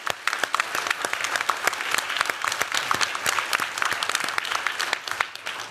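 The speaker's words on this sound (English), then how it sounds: "Let's give a round of applause to our great facilitators." An audience at a panel discussion on design and justice claps for the facilitators, with dense, even applause lasting nearly six seconds and no voices.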